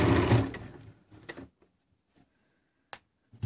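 A sewing machine stitching fabric patchwork for a cushion cover, a loud close burst of fast mechanical running at the start that stops within a second, followed by a few sparse clicks and taps in near silence.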